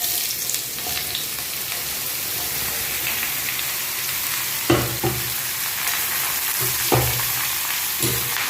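Steady sizzle of water lily stems frying with garlic in oil, with a few sharp stirring clatters near the end, no talking.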